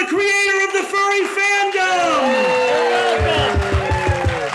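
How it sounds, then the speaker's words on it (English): Crowd at a live Dragget Show event bursts into applause and loud cheering with whoops, while a host's amplified voice talks over it and a rhythmic beat kicks in near the end. "I want a huge round of applause for Firr"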